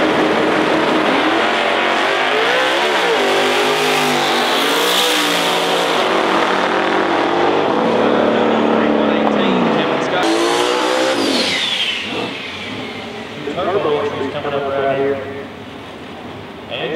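An 1987 box-body Mustang drag car powered by a 358-cubic-inch Chevrolet engine runs at a drag strip, its engine revving and surging loudly for most of the run before fading, with a loud voice over the top.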